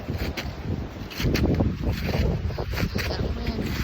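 Strong winter wind buffeting a hiker on a trail near Silver Falls, a loud continuous roar and rumble hitting the microphone in gusts, with a brief voice faint underneath.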